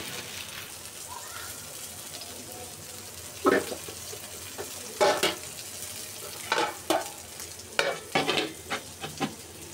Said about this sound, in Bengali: এভাবে সর্ষে ফোড়ন দিয়ে লাউ রান্না করলে কিন্তু বেশ ভালো লাগে খেতে